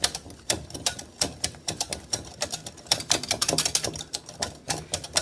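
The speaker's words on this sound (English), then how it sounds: "we are going to add this butter painstakingly slowly, whisking the whole time" Butter being whisked slowly into hollandaise sauce, a whisk ticking rapidly and steadily against the bowl in close, crisp, irregular strokes with no talking.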